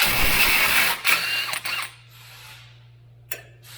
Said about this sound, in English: we're gonna use a 32mm socket for our axle nut